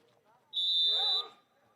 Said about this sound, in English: And there is the whistle by the second referee, Matthias Kahner.